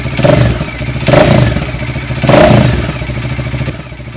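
A Bajaj Dominar 400 motorcycle engine, idling during a coolant change, revs up in three loud, close bursts at regular intervals, each swelling and falling back to a rough, clattering idle.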